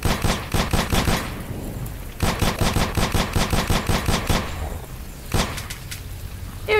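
Rapid bursts of shotgun gunfire in the survival video game Sos Survival, loud and close, coming in repeated rhythmic volleys separated by brief pauses, with a few sharper single blasts.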